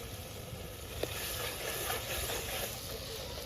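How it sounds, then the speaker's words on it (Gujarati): Potatoes with spices such as asafoetida, turmeric and chili frying in oil give a steady, moderately loud sizzle with continuous crackle and one brief sharp pop, and no voices. "થોડી વાર માટે તેલમાં સળવા દઈશું"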